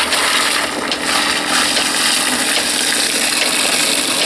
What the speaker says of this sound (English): So we take our buckets and